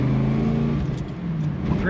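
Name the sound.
1976 Chevrolet Corvette exhaust while accelerating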